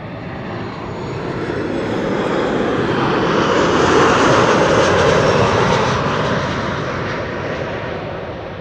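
Transavia passenger jet landing at Amsterdam Schiphol on runway 06, the Kaagbaan: a broad engine roar builds from a distance, swells to a loud peak in the middle and slowly recedes, continuous and unbroken, with no voices.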